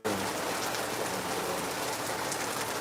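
Steady, dense rain pours down in Lagos, a continuous close hiss of drops on surfaces with no pauses and no voices.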